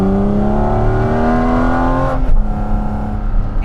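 Engine of a Porsche Cayman GT4 RS with exhaust on, holding a steady high drone inside the cabin, then shifting and dropping as it rises again, loud and close without talk.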